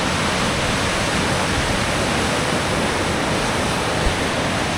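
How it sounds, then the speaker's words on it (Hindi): A fast-flowing Bhagirathi river rushes through a Himalayan valley on the Gangotri trek, a steady, loud broadband roar of churning water filling the whole scene without a break. "देखो मैं दिखाता हूँ आपको, कितना तेज़ प्रवाह है यार। वहाँ से देखो यार भाई साहब, भागीरथी भागती हुई।"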